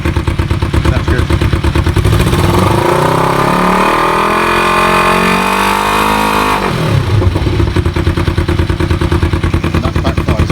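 A Kawasaki EN450 bobber motorcycle engine revs hard and loud up close, climbing and falling through a long rising-then-dropping sweep between rough idling passages, with an uneven, sputtering edge.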